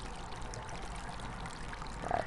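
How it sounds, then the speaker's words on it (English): A garden fountain runs steadily, a soft continuous pouring and trickling of water heard faintly from some distance, with a slight swell near the end. "This fountain makes a very relaxing sound."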